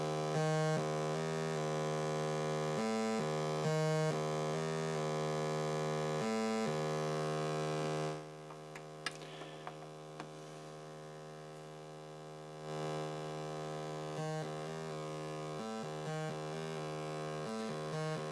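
A Serge modular synthesizer plays an eight-step melody from the TKB sequencer, stepped manually as a buzzy, harmonically rich tone in short repeating notes. It falls quiet for a few seconds, then resumes at a lower level, with a faint mains hum underneath.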